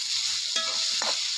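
Onion and tomato sautéing in a pan give a steady, close sizzle with a couple of brief stirring scrapes over the top, and no voices.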